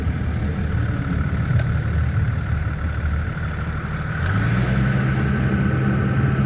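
A 2002 Dodge Cummins two-wheel-drive pickup with its diesel engine droning steadily while cruising, the low rumble swelling louder about two-thirds through as it picks up throttle, no talking.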